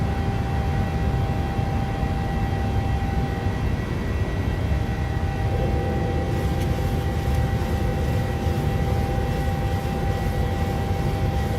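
Landing gear of a PMDG 737-700 retracting in a flight simulator, a steady roar of jet engine noise throughout with a shift in texture midway as the gear tucks away; no talking.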